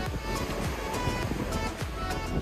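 Sea waves roll in from both sides of a narrow sandbank in the Maldives, making a continuous, close wash of surf with soft crashing swells and wind over the water.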